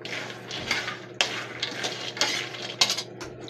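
A utensil stirs peanuts and garlic in a pan, with repeated close scraping and rattling strokes and a few sharper clinks of metal on the pan, heard on their own.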